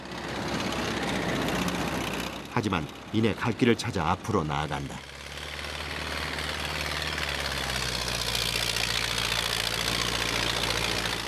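On a frozen, snowy mountain track at a Russian logging site, a tractor engine idles and churns with a steady rumble while its wheels spin, first beneath someone narrating and then alone.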